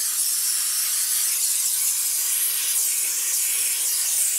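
A handheld steam cleaner blasting hot steam onto car wheels gives a loud, continuous, airy hiss that holds steady throughout, with no voices.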